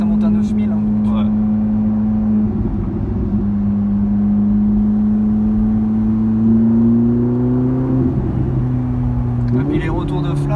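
A Ferrari 458 Italia fitted with a Capristo exhaust holds a steady, loud engine drone near 3000 rpm, its pitch rising gently in places, while people talk over it throughout.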